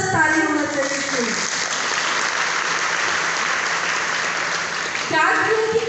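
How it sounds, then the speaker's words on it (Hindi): An audience bursts into sustained, loud applause, a dense wash of clapping that carries steadily for several seconds with a voice heard briefly at the start and end. "स्पाइरला और चाय के लिए जबरदस्त ताली होना चाहिए"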